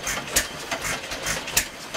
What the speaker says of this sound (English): we have a wild rice processor that is incorporating a 100-year-old engine